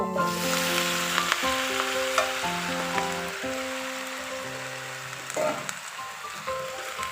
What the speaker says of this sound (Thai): เราผัดแป๊บเดียวไม่ผัดนาน